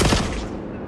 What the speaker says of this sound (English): Well, that's because I just shot him.